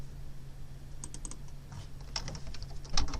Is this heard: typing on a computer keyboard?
yes